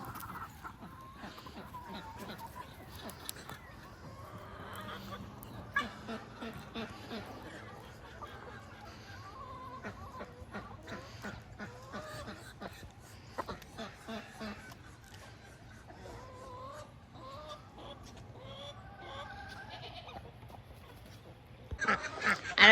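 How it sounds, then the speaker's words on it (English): Chickens cluck in a yard, with irregular bursts and calls continuing throughout and a person speaking at times over the flock. "I got chickens."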